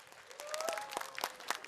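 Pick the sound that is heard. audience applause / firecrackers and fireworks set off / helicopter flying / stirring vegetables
audience applause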